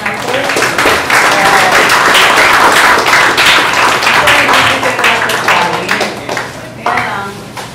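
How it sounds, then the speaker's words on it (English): An audience at a SAP HANA introduction event gives the organizers a round of applause, a dense burst of many hands clapping that holds steady for several seconds before thinning out toward the end. "we like to give a round of applause to the organizers"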